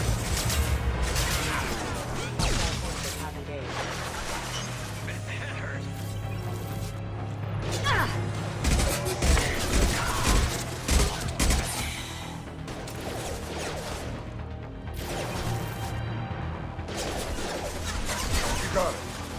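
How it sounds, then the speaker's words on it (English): Heavy, sustained gunfire and crashing impacts in a Mass Effect 2 battle, dense and loud throughout with no letup. "Under heavy fire!"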